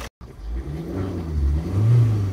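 A car engine revs up after a breakdown, rising and falling through several swells over a couple of seconds, close and fairly loud with no talking.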